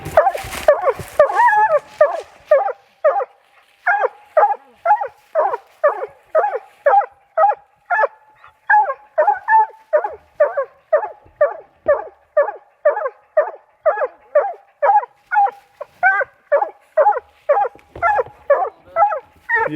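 A young coon hunting dog barks over and over at close range, a steady run of loud, evenly spaced barks after a brief clatter at the start.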